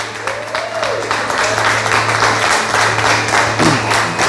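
A church congregation claps for Jesus in a steady, lively round of applause, with a voice and sustained music tones running underneath.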